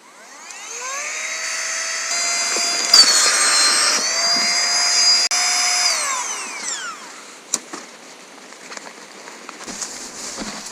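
Electric air pump inflating a camping mat, a loud, steady whine with a high whirring tone that rises in pitch as the mat fills, then winds down and stops, leaving a few faint clicks and rustles.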